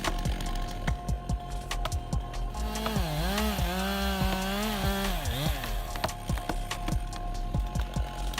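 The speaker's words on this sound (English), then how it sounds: "This chainsaw was a marvel of engineering, defying all expectations by effortlessly cutting through giant tree trunks at unprecedented speeds" A fast chainsaw cuts through a giant tree trunk, the engine snarling and bogging down into a wavering pitch mid-cut, with sharp cracks and clatter of wood around it, loud and close.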